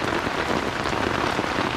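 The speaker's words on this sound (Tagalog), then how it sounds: "Magdamag ang ulan. Ganyan lang siya na ambon." Steady overnight drizzle falls on a tent at a riverside campsite, an even, dense patter of drops on the surface with no voices.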